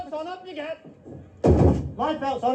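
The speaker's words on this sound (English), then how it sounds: "Third-class stewards rouse their passengers by banging open doors, switching on lights, and shouting." Cabin doors banged open by third-class stewards aboard the sinking Titanic, one loud broadband slam cutting through surrounding talk and music, followed by more voices.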